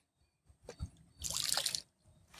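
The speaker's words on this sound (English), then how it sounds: "I'm hoping I'll be able to squirt it out of there into the water." Algae-eating bacteria liquid squirts from a bottle into pond water: a couple of small soft spurts, then one longer hissing splash lasting about half a second, close and fairly quiet.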